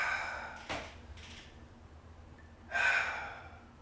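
A deep breath drawn in during a TRX yoga flow session, a soft airy inhale followed later by a longer audible breathy exhale, close to the microphone over quiet room tone.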